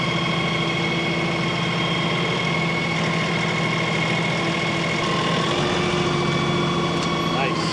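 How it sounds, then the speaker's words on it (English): A tractor with a level bucket scoops dirt and hard clay while its engine runs at a steady, close, droning idle throughout. "Let's get on the tractor and get this stuff out of here"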